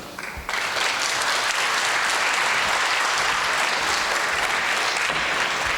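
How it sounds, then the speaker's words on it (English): Audience applause at a women's football tournament opening ceremony, a sudden burst of loud, dense clapping from a large crowd that holds steady and continuous. "A big hand of applause against to Jarna."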